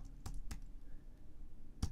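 A few sharp, spaced keystrokes on a computer keyboard while code is being typed, three distinct clicks over a steady low room hum, close and fairly clear, with no talking.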